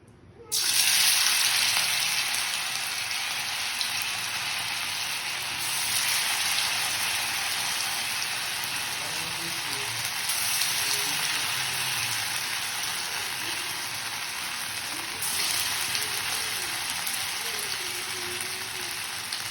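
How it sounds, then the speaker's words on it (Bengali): Chickpea-lentil fritters sizzle in hot oil in a wok, a steady close-up frying hiss that holds evenly throughout, with no talk. "এরপর আমরা একে একে বড়াগুলো তেলের মধ্যে দিয়ে দেবো।"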